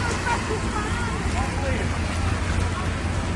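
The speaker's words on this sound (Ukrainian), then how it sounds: "Після спеки знову потужна злива." Heavy summer downpour in Poltava, dense and steady rain pounding surfaces close by, a continuous loud roar with no breaks, with faint voices under it.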